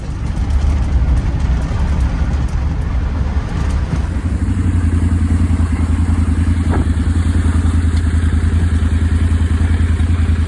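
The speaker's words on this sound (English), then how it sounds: "We're just going to find some simple green lanes and take it off-road." Land Rover Defender driven off-road along bumpy countryside green lanes, a steady loud engine drone with rattling and clatter throughout, pitch shifting slightly partway through, no talking.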